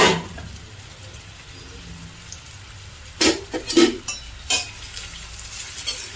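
Crushed unpeeled garlic is stirred in a frying pan with onions, a soft sizzle running throughout and a few sharp scraping clatters of the spoon near the end, with no voices.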